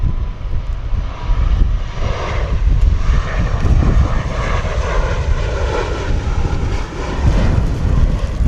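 A TUI airliner lands on runway 27 at Bristol Airport in strong winds, with a loud continuous jet engine roar and rumble that stays close and sustained throughout.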